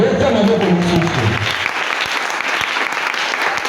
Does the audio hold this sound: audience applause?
yes